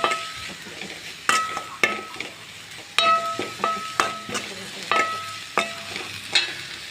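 Small tomatoes with salt and turmeric sautéing in a pan: a clear sizzle under repeated sharp scrapes and taps of a spoon against the metal, close and fairly loud, with no voices.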